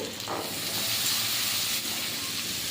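Boiled potatoes, carrots and peas dropped into hot oil while cooking a broccoli dish, producing a loud, steady hissing sizzle that swells and holds without pause.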